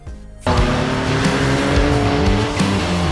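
After a brief quieter moment, a Ford Ranger Raptor's engine with its active valve exhaust bursts in loud and close, a raw, aggressive roar holding steady for a few seconds.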